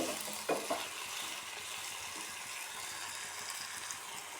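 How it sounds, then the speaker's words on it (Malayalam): Brinjal sautés in a pan for mezhukuperatti, a steady soft sizzle heard up close with a couple of scraping stirs near the start. "നല്ലപോലെ വഴറ്റിയെടുക്കാം."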